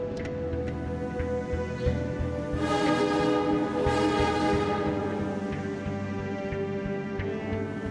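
Train arriving at a station in the Primordia video game, a steady rumbling rail drone with a swelling mid-section as it pulls in, heard alone without speech.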